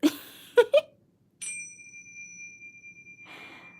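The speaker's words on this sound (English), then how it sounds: "I am going to clear the energy with the chimes" After a few soft breathy sounds, a bright chime rings out and sustains, its clear tone slowly fading, followed by a brief rustle.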